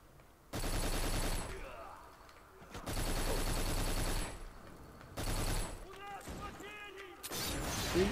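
Shotgun blasts and heavy gunfire in the video game Black arrive as three loud, dense bursts separated by short quieter gaps, with metallic mechanical clatter toward the end.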